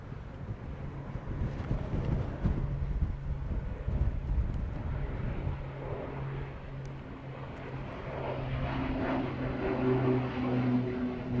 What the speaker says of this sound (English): It's a smart aeroplane, isn't it?